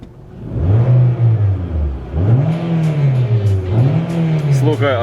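A 2013 Nissan Sentra engine with a repaired CVT revs up and down in repeated rising and falling sweeps, loud and close, with a brief higher whine near the end.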